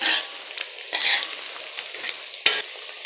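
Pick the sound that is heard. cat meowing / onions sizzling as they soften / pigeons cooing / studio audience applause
onions sizzling as they soften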